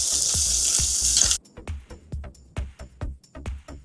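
Chopped garlic sautéing in a clay pot, heard up close: a bright sizzling hiss cuts off after about a second, then a run of sharp knocks and scrapes follows.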